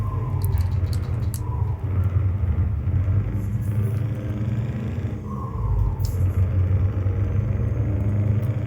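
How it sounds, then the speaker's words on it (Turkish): Continuous low rumble and road roar of a Scania T500 truck's tires and engine in Euro Truck Simulator 2, steady and loud throughout with slight swells. "Daha öncesinde böyle bir lastik sesi yoktu oyunda."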